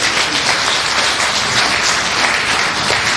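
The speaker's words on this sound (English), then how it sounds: "Another round of applause, please." An audience at a financial literacy breakfast meeting applauds loudly and continuously, a dense wash of many hands clapping at once with no voices.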